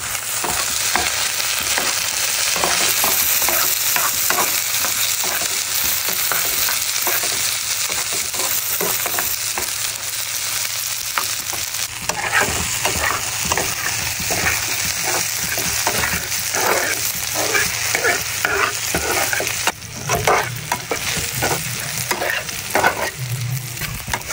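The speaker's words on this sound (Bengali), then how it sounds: "তেল গরম হয়ে গেছে, তো এবার আমি পেঁয়াজ কুচি দিয়ে দিচ্ছি। মরিচ দিয়ে দিচ্ছি, রসুন দিয়ে দিচ্ছি, সুন্দর মতন ভেজে নিচ্ছি।" Chopped onion, chili and garlic fry in hot oil, sizzling loudly and steadily up close while a utensil stirs and scrapes the pan in repeated strokes.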